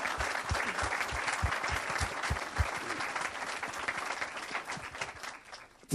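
Sustained audience applause fills a church gathering during a talk on biblical marriage, dense and close, with rhythmic clapping beats running through the steady wash of hands.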